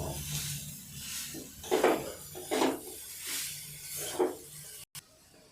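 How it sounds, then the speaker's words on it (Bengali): Chicken with spices and chopped coriander being stirred slowly in a pan, a few soft scraping strokes of a spatula against metal with faint sizzling underneath, fairly quiet and close, no talking. "খুব ভালো করে আস্তে আস্তে নাড়তে থাকবো, যাতে মশলা খুব সহজেই চিকেনের সঙ্গে মিশে যায়"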